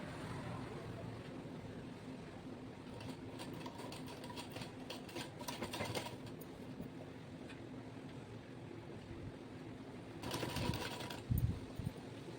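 An electric sewing machine stitches a thick lungi cloth in a basic tailoring class, its steady motor whir running throughout at moderate level, with slightly louder bursts of stitching partway through and near the end.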